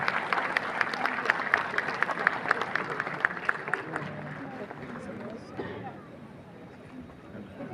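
An audience claps to welcome spiritual speaker Jaya Kishori at a lecture, a few seconds of scattered clapping fading into crowd murmur and nearby voices talking.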